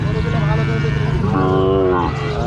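Cattle moo loudly and close by at a morning calf and cattle market in Rajshahi, a long drawn-out low call rising over the crowd murmur and background voices.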